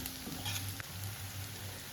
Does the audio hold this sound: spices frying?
yes